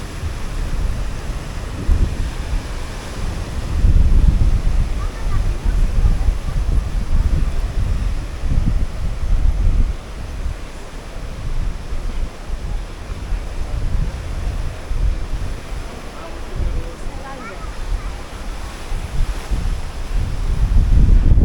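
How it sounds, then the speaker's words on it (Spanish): Rough sea with heavy surf at an urban beach in Gran Canaria, waves rolling and crashing continuously under strong wind buffeting the microphone, loud and steady with surges throughout and no talk. "Hoy el mar está bastante alborotado, no está muy planito ni mucho menos, está algo alborotado, hay bastante oleaje, hay un poco de viento"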